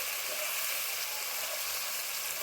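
Chicken fries in a pan with ginger paste and chili powder, a dense, even hiss of sizzling oil that holds steady and close with no other sounds.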